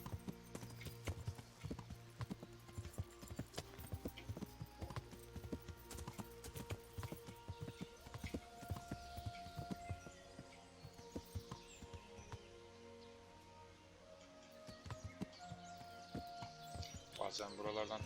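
Horse hooves clip-clop at a steady walking rhythm in the Kingdom Come: Deliverance video game, continuous and fairly quiet throughout.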